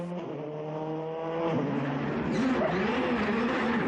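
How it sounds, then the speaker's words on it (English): A rally car setting off on a stage of a North West stages rally, its engine revving and rising in pitch as it accelerates away, heard loud and fairly close. "So Tony Bardi setting off now, he's got 4 stages left after his problems on Fleetwood Docks"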